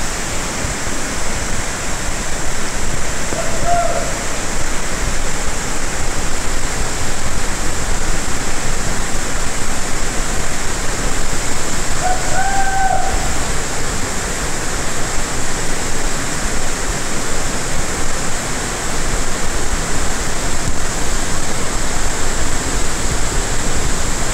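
The Ab Malakh waterfall in Iran roars in a continuous loud broadband rush that fills the whole stretch without pause, with a couple of faint brief tonal chirps briefly rising above it.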